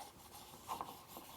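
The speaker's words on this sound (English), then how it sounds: "Just going back and forth, sanding it. I'll try to get the char out" Sanding char off the bottom of a burnt stainless steel pot, a faint close scraping rub that swells briefly once, with no talk.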